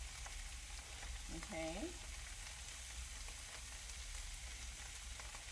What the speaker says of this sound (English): I'm gonna add my onions in there. I'm just spreading them kind of around the meat so that they still get plenty of heat from the pan